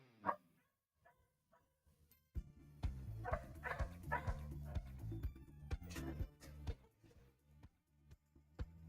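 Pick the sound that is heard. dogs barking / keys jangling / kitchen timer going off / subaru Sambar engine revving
dogs barking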